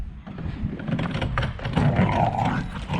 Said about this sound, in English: Why is she biting at that tire?